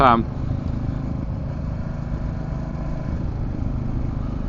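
A motorcycle engine drones steadily under wind noise while riding with a windshield, a continuous low rumble throughout, heard at the start alongside a short burst of speech.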